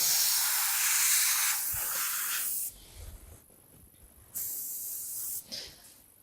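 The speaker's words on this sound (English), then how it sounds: "It's good to just keep stopping and checking with airbrushing" An airbrush spraying colour onto a cake decorated with pigs gives a steady close hiss, then stops and starts again in short bursts with quiet pauses between.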